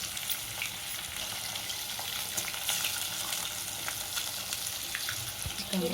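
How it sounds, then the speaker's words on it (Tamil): Beaten egg sizzles and fries steadily in a hot pan for egg fried rice, a continuous close crackle with slight shifts where it is moved about. "நம்ம முட்டையை அடித்து ஊற்றிக்கலாம் முட்டையை உடச்சி ஊற்றிக்கலாம்"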